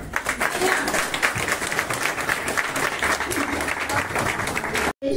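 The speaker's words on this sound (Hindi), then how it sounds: "जोर से तालियां" A crowd claps steadily at a Haryana Mahila Congress gathering in Sonipat, welcoming the state women's wing president. The dense, loud applause runs unbroken for about five seconds before a sudden brief cut.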